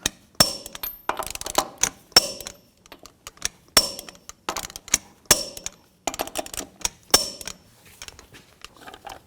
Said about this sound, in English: 140 foot-pounds in a cross pattern to tighten the wheel down evenly